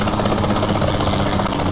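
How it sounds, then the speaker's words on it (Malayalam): A helicopter in the video game Saints Row The Third gives a loud, steady rotor and engine roar that holds without a break, with no talk over it. "Where's that guy in the Aadivoli. helicopter going?"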